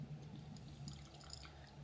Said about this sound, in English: I'm going to pour it in the glass here and see what really expresses itself coming out of the glass